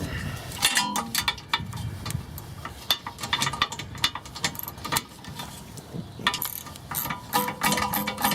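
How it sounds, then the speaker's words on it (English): Ratcheting wrench work loosening a bolt from a rear brake caliper on a 2006 VW Jetta TDI, a steady run of close, rapid metallic clicks with a few louder clanks and no talking. "Take that bolt out of there."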